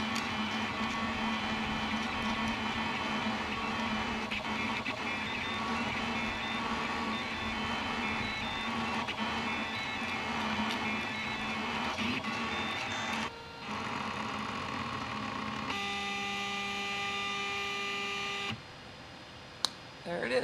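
A 3D printer runs steadily with a constant mechanical whine and stepper-motor tones, shifting pitch as moves change, then briefly pausing near the end.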